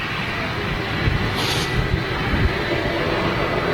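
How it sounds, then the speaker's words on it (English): A Boeing 757 with Rolls-Royce RB211 engines roars steadily at Manchester Airport, a loud, broad engine rumble that holds throughout with a brief rising whine, with people talking underneath. "listen to this 757, these RB211s"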